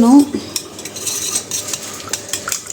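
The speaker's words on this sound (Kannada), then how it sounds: "ಇದನ್ನು ಬ್ಲೆಂಡರ್ ಅಂತಾರೆ ನಮ್ಮ ಕಡೆ ಇದನ್ನು ಮಜ್ಜಿಗೆ ಕಡಿಯೋದು ಅಂತಾರೆ" A hand churner whisks spiced buttermilk with salt, red chilli powder and pepper in a vessel, making rapid, close swishing and light clinking against the sides in short uneven strokes, with no voices.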